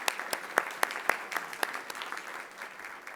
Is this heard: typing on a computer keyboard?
no